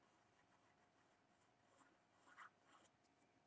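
Pen writing a name on a sheet of paper, heard as a few faint, brief scratchy strokes in near silence, with a sharper tap at the very end.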